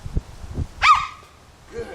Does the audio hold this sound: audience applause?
no